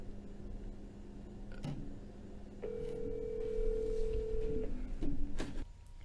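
Telephone call tones heard on a podcast line, a steady electronic tone holding for about two seconds amid faint clicks and low background hum, no speech.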